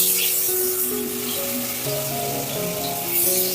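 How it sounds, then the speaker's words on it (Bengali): Paneer fries in a wok of white oil and butter, giving a continuous, even sizzle at close range with light crackling and no speech over it. "কড়াইতে আমি একটু সাদা তেল আর বাটার মিশিয়ে পনিরটা ভাজি।"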